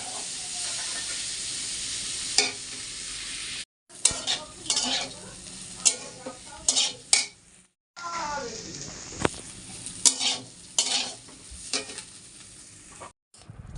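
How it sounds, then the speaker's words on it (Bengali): Teasel gourd, potato and bitter gourd fry together in a pan, a close steady sizzle and hiss broken by repeated scraping stirs, with a few brief cuts to silence between passages. "কাঁকরোল, আলু, উচ্ছে একসঙ্গে ভাজা করব"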